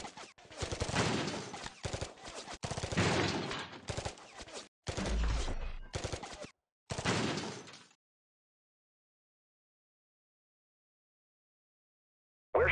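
Rapid bursts of gunfire ring out in the Alien Robot Monsters game on Android, several clipped volleys in quick succession, and then the sound cuts to silence.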